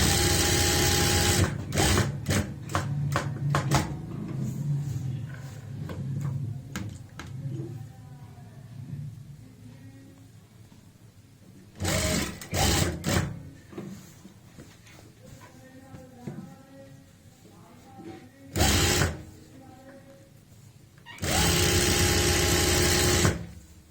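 A sewing machine stitches a border onto a kurti in loud bursts of rapid needle chatter, separated by quieter pauses in which someone speaks.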